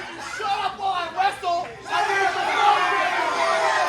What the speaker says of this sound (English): The fans wanted to cheer for Warden.